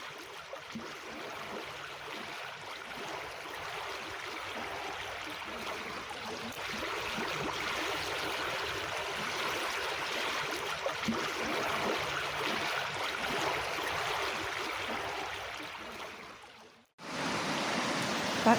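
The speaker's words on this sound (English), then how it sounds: "just spend a minute or two visualising this river as it's flowing past us" A high river flowing fast through woodland, heard as a steady, broad rushing roar close by that runs on alone, drops out briefly near the end, then returns.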